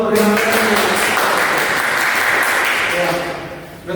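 Audience applause fills a lecture hall during an education session, a dense steady clatter of clapping that runs loud for about three seconds, then thins and fades out at the end.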